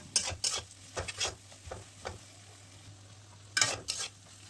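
Ground spices such as turmeric, chili and cumin powder are stirred and fried in a pan, giving a soft background sizzle broken by rhythmic scraping strokes of a spatula, clustered at the start and again near the end.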